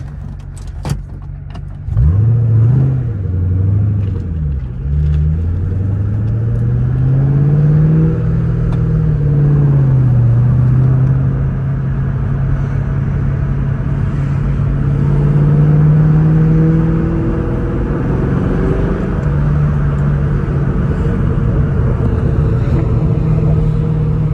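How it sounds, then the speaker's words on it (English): A Ford Mustang Mach 1 drives through a neighborhood, its engine revving up from idle, then droning loudly with pitch rising and falling through gear changes and steady cruising. "So we'll go for a little drive through the neighborhood."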